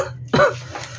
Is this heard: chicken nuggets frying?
no